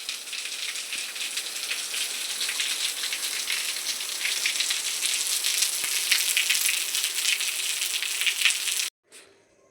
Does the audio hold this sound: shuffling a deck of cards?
no